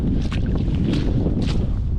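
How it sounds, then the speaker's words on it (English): Wind gusts across the open hilltop of Winter Hill, a loud, close, rumbling buffet on the microphone with brief swells of hiss, and no voices. "Wind's picking up a little bit, as you can probably make out."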